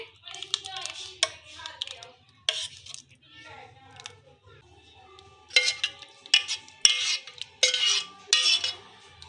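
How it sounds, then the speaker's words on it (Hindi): Custard vermicelli being spooned from a pan into a serving bowl: light metallic clinks and taps of a spoon against dishware, scattered and then quickening near the end, close by and fairly quiet. "अब हम इसको सर्विंग बाउल में निकाल लेते हैं।"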